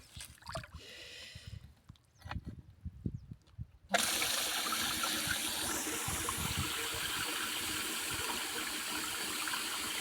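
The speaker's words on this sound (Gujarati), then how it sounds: "પાણી આપણે ખોલ નાખ્યું છે અને પ્રેશર બની છે" Water gushing under pressure from an opened irrigation valve in a field, a loud continuous rushing roar that starts abruptly after a few seconds of quieter rustling and handling noise.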